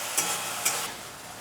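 Chicken curry ingredients frying in a pan, a steady soft sizzle with two brief scraping stirs, close and alone.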